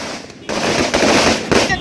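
Firecrackers burst in rapid, loud crackling volleys at a lorry owners' protest against fuel price hikes outside a temple in Chennai, with short gaps between the bursts and crowd noise mixed in.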